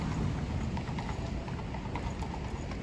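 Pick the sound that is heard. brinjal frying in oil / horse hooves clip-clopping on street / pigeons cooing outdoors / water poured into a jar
horse hooves clip-clopping on street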